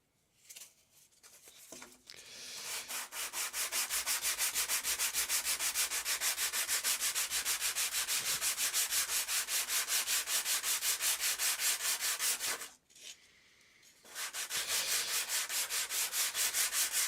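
Rhythmic back-and-forth sanding scrapes across a cardboard laptop mount, close and steady strokes, pausing briefly about two-thirds through before resuming.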